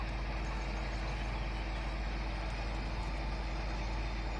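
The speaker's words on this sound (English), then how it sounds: "That's the articulated tractor." An articulated tractor engine in Farming Simulator 2013 runs with a heavy, steady low rumble, constant and close, with no talk over it.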